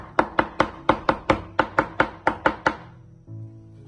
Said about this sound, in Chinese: 今天的肉末我们不要剁太小，稍微有一点颗粒感才更好。